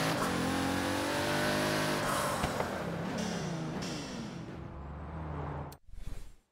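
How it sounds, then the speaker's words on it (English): A supercar engine in the Forza Horizon 3 racing game revs hard and steadily, then drops off with a sharp hissing whoosh of a turbo blow-off valve before a brief rumbling resumes. "That turbo blow-off valve. Holy cow, you guys hear that?"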